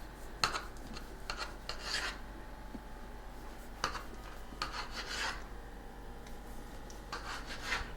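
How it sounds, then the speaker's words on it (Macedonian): A knife cuts through pogacha pastry dough into triangles, making repeated soft rasping scrapes in short bursts against a board, fairly close and alone, with a low steady hum underneath. "На триагалници се сечи ова тесто."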